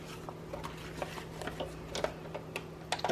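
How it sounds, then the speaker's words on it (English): A sewing machine stitches fabric onto a junk journal page, tapping out quick irregular ticks and light rattling bursts over a steady low motor hum, close by and moderately loud. "I'm just gonna sew all the way around the piece of fabric."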